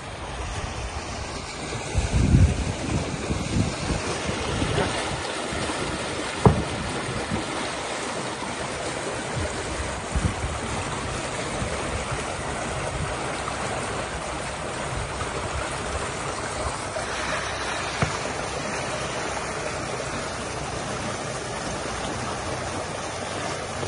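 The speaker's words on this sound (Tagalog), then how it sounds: "nagpapapasok na tayo ng tubig" Water flows steadily into a bukatot fishing trap, making a continuous, even rushing and splashing wash that stays constant from start to finish, with one brief knock partway through.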